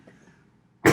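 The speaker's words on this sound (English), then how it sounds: "That's an asthma cough." A single sharp asthma cough bursts out at the very end after a near-silent stretch with faint murmuring.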